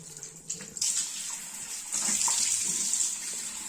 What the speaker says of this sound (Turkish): Durula yüzünü. Cihazı da yıka.